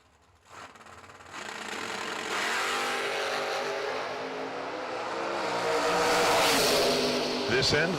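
A 1967 Camaro launches down a drag strip, its engine rising into a loud, building roar that swells over several seconds while an announcer talks over it.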